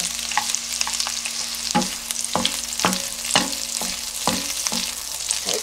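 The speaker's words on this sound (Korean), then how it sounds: "이 가지나물은 좀 말랐던 거가 돼서 이 기름이나 수분을 좀 많이 흡수하거든요. 그래서 기름을 조금 넉넉히 두르고 볶으셔야 돼요." Dried eggplant namul is stir-fried in generous oil for a Korean holiday ancestral-rite dish, with a steady sizzle broken by repeated sharp scraping strokes of a utensil against the pan at a regular, brisk rhythm, close up and without speech.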